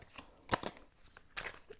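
Gypsy Oracle cards are shuffled by hand, a few quick soft riffling and sliding bursts, close and quiet with short pauses between them.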